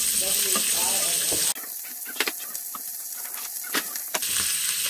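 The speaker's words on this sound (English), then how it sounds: "put in all the vegetables, cook it in the fat" Vegetables frying in leftover beef fat in an Instant Pot on saute give a loud, steady sizzle that drops to a quieter crackle with scattered stirring clicks, then swells back to a full hiss.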